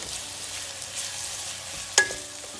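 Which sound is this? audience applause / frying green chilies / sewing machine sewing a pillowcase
frying green chilies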